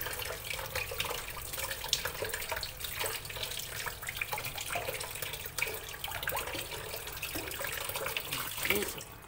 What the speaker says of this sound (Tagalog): Hugasan na po natin ito.